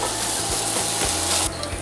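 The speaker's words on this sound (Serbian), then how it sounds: "sada ćemo propržiti na istom tom ulju 2 crvene glavice luka" Two red onions fry in oil in a pan, giving a steady loud sizzle with a few rhythmic scraping stirs, and no voices.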